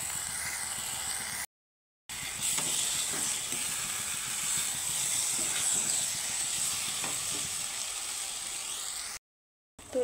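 Fried okra being stirred into a spice masala in a pan, giving a steady sizzling, hissing fry throughout with light scraping, broken by two short silent gaps.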